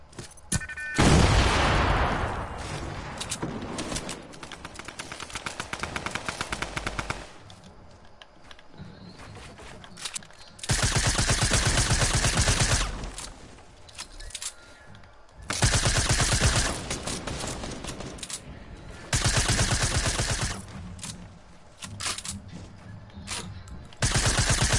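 Bursts of automatic machine gun fire in a video game, several long rattling volleys separated by short pauses, loud and close with no talk over them.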